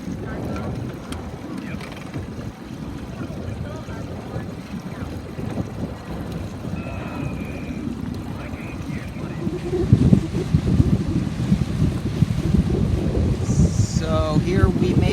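A Sabot sailing dinghy racing in wind, with steady wind rush buffeting the microphone and water washing along the hull, growing rougher and louder toward the end.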